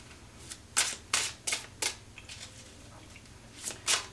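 Tarot cards picked out and handled for a Libra reading: about eight crisp papery swishes and flicks, clustered near the start with a pair toward the end, close and fairly soft over a quiet hum, no talking.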